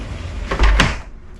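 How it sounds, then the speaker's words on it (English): A heavy-duty sliding door fitted with safety glass is moved aboard a Privilege Serie 5 catamaran, making a brief, close rumbling slide that ends in a short knock, with no talk over it. "heavy duty sliding door with safety glass everywhere"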